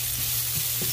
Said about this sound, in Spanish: Voy a dorar poquito la cebolla para que se ablande